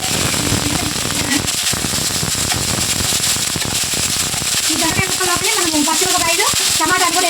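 Mustard and cumin seeds sputter in hot oil, a dense, continuous crackle of sharp pops that runs throughout, with a voice speaking briefly toward the end.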